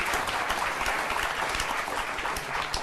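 A studio audience claps in a dense, continuous wash of applause that holds at an even loudness throughout, with no voices standing out.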